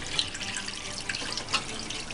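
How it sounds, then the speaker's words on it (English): Water pours off freshly made mozzarella curds in a home kitchen, a steady, close rushing splash with a few brief bright spatters and no one talking. "I'm going to just pour off that first batch of water"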